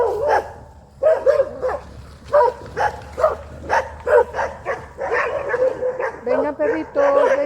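Several dogs bark and yip in short bursts throughout, close by, with a voice talking over them.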